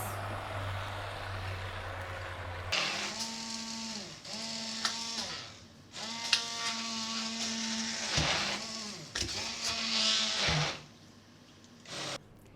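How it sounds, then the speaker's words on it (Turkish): A blender whirring in repeated short bursts while almond milk vegan yogurt is mixed, with loud motor pulses separated by brief pauses, close and without speech. "Bunu bir 5-10 dakika iyice karıştırdıktan sonra yoğurdumuz hazır olacak."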